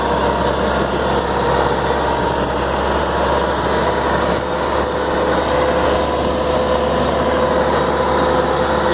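A tractor engine labours steadily to pull free of mud, a loud, continuous low rumble and drone holding for several seconds with no clear change in pitch and no talking.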